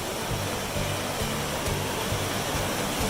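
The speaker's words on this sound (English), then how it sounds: "Come around this corner, you see a really cool waterfall." A waterfall on a fern-lined hiking trail near Melbourne, a steady, dense rushing roar of falling water that fills the scene evenly without a break.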